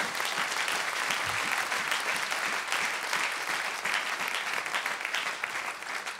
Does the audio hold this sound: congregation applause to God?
yes